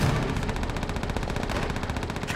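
Battle gunfire in Call of Duty: World at War, Russian campaign sniper mission: sustained machine-gun bursts and rifle shots rattle continuously and loudly over a dense wartime din, with no speech.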